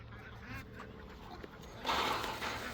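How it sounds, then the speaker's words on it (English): Ducks quacking at a homestead barn: a few nasal calls early on, then a louder burst of overlapping quacks near the end, fairly close, with no talking. "I gotta get the ducks back in."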